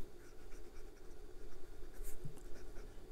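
A Lemon M1 piston-filler fountain pen with a No. 6 steel long knife nib writes on Clairefontaine 90 gsm paper, giving a soft, continuous scratchy rustle of strokes that is close and quiet.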